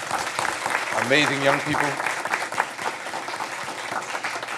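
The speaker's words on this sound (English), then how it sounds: "Let's give a big round of applause to these" A public commission meeting audience gives a steady round of clapping that runs the whole time, with a voice speaking briefly over it near the start.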